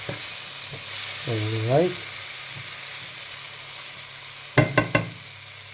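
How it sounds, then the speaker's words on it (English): Washed rice stirred in a frying pan with other ingredients: a steady sizzle runs under scraping strokes, and a few louder clatters come near the end. A voice speaks briefly. "Stir them well."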